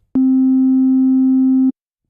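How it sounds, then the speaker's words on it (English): A synthesizer oscillator sounds a clean, pure sine-wave tone, steady and loud, holding one pitch for about one and a half seconds before stopping abruptly, with silence on either side. "From a clean and pure sound with not many frequencies, made by a sine wave"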